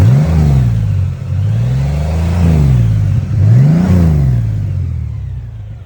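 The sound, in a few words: 2018 Honda Goldwing Tour motorcycle engine running, revving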